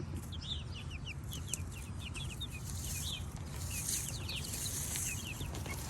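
A flock of chickens and white, fuzzy-legged roosters clucks and chirps softly at a distance, the faint calls scattered over a steady low background rumble.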